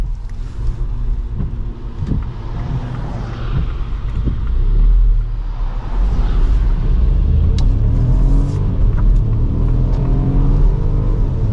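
A 2025 Ford Puma ST-Line X on larger alloy wheels accelerates steadily, its engine building from a low rumble to a stronger drone that holds through the second half, with wind and road noise around it and no talk.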